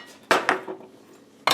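A larger bowl being pulled out for leftover roast beef, with dishes clinking in three sharp, loud clatters, two close together and one after a pause, and no talking.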